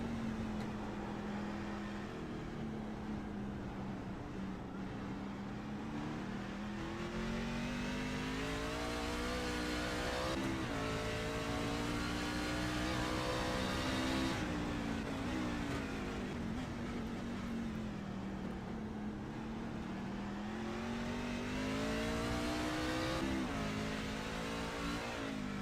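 An IAA race truck's engine heard from on board during a race on the Chicago street course, revving up and down in smooth waves of rising and falling pitch, steady and close, with no talk.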